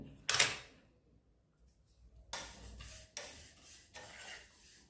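Sesame seeds dropped into a pan for dry frying give short, close bursts of rattling and stirring, separated by quiet gaps, with soft scraping of a utensil against the pan.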